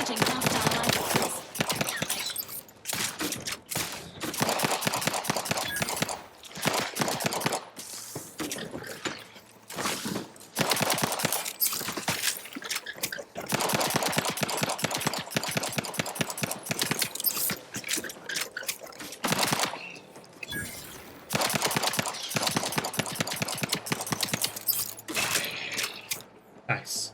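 Rifle gunfire rings out in the video game Outer Worlds 2 as rapid, dense bursts of sharp shots in repeated volleys with brief gaps, loud and continuous over clicky mechanical noise.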